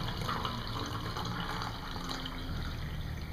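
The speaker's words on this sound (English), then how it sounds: "I got water plenty hot enough to make my tea, so I'm going to go ahead and pour that in there." Hot water poured from a pot into a cup for tea beside a Venom Super Stove, a soft steady liquid trickle and splash lasting a few seconds, faint and close, without talk.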